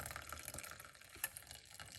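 Liquid poured off from a cooking pot, a steady splashing trickle that runs throughout with no talking.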